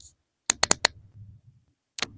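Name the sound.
clicking the button on a wireless lavalier mic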